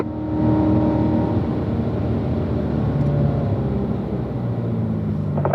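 A car accelerating on the Spring Mountain race track produces a loud, continuous engine drone heard from close by, its pitch climbing gradually throughout with no voices.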